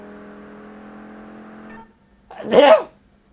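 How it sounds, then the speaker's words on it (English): A single loud human sneeze bursts out after a steady engine drone from a racing game cuts off, followed by brief quiet. "I try and move myself as far away from the microphone as I can to sneeze."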